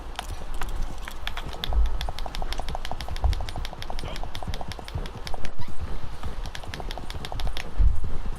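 Steady clip-clop of horse hooves trotting close by in Red Dead Redemption 2 Online, a rapid regular rhythm that continues throughout with a few heavier thuds.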